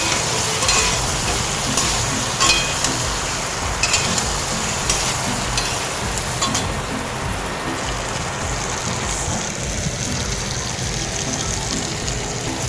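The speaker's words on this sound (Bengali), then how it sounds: "আলুটা দিয়ে ভালো করে মশলার সঙ্গে সুন্দর করে মিশিয়ে নিয়ে কষিয়ে নিতে হবে।" Diced potatoes frying with spices in a hot pan for Kashmiri aloo dum, giving a steady, close sizzle and crackle with an even rain-like hiss throughout.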